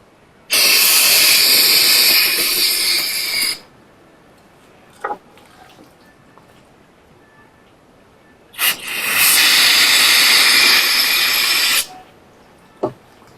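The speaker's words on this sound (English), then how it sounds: "I could probably put a little brake cleaner in it, help it out." Aerosol brake cleaner sprays into a part of a Jaguar XJS under rebuild, two loud steady hissing bursts of about three seconds each separated by quiet, with small clicks between.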